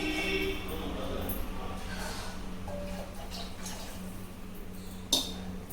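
Tamarind water poured into a pot of boiling rasam on the stove gives a steady low liquid pour and bubbling, with a small clink of a vessel near the end, under faint kitchen background and some voice.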